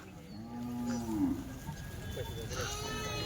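Kathiawadi goats and sheep at a livestock sale, one loud drawn-out animal call up close followed by weaker calls, with people talking nearby.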